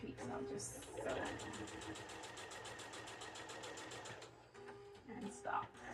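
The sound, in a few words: sewing machine stitching fabric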